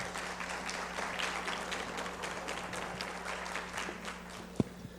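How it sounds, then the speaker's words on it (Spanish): A workshop audience at a legal congress gives steady applause, a fairly faint, continuous patter of many hands in a hall, ending with a single sharper knock. "Vamos a darle un fuerte aplauso"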